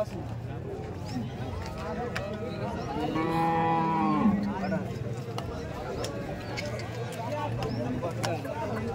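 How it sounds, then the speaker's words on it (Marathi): Cows at the Chalisgaon cattle market give one long, drawn-out moo partway through, rising above the steady hubbub of a crowded livestock fair where people talk nearby. "टॉप क्वालिटीच्या गाय आलेले आहे। चाळीसगाव गाय बाजारात बघू शकता तुम्ही"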